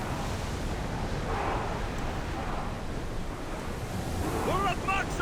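Sailing ship cutting through open ocean in Assassin's Creed Odyssey, with steady surf and wind noise rushing throughout, a brief creaking or call-like tone near the end.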